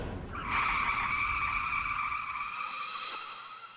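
A car brakes to a stop with a loud, sustained tire skid lasting about three seconds, the squeal holding steady before fading out.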